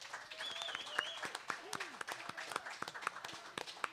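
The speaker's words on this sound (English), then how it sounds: "Big round of applause" An audience applauds after a songwriters' performance at a yacht club, a brief scatter of fairly sparse, moderately close hand claps with a faint whistle or voice over them.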